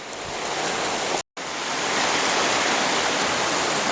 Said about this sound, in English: The path goes right along the shoals of the creek.